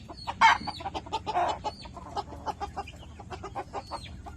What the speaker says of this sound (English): the biggest, baddest silky rooster you will ever meet, ever.